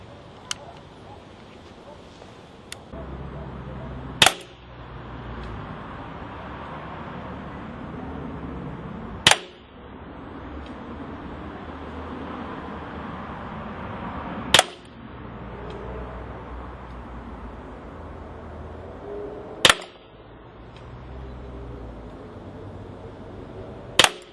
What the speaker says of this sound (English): We're going to be firing steel BBs through this